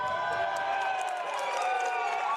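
Marion Center fans in a high school gym give a mock cheer at a girls' basketball game, a sustained chorus of crowd voices rising and falling across the whole moment, with sneaker squeaks faintly underneath.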